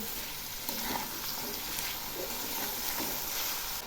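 Potatoes, cauliflower and capsicum frying in a pan while being stirred, a continuous close sizzle with soft scraping strokes.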